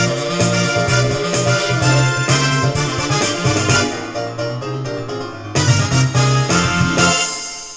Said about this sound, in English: And number 3 ending will sound like this